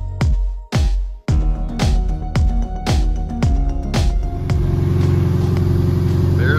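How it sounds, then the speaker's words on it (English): A Subaru engine swapped into a 1973 Volkswagen bus cranks with several sharp starter turns, then fires up and settles into a steady, loud idle nearby. "cranked it over, fired right up"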